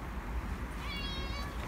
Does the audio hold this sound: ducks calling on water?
no